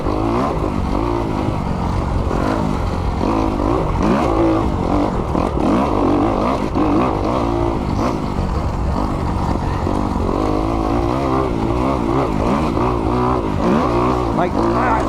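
A 2021 Kawasaki KX 250X dirt bike ridden hard on wooded trails, its engine loud and close, constantly revving and shifting pitch under a rider talking throughout.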